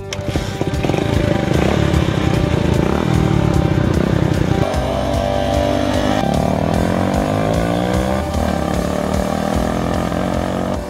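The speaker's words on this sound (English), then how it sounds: "let's hope my bike doesn't stall out because, well, it's older than I am" An old motorcycle runs at a steady speed, its engine producing a loud, continuous droning hum close by, with a few slight shifts in pitch and no pauses.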